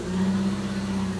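A 1987 Mercedes-Benz 190E engine idles steadily after six months of sitting on stale, low fuel, a close, even hum with no misfires and no voices.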